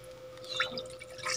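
A small splash of water is poured into a cooking pot with tomatoes while breakfast is being made, a brief trickle and drip lasting about a second amid faint kitchen background.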